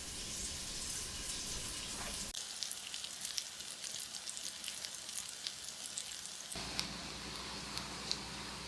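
Butter sizzling in a frying pan for Hamburg-style fish cakes, a soft steady frying crackle with small pops and a couple of shifts in intensity as the pan settles, no talking.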